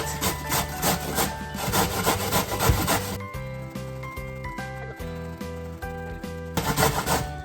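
Cabbage is grated by hand for a crunchy rainbow coleslaw, giving quick, rhythmic rasping strokes up close, pausing in the middle and then resuming, over a faint tonal background.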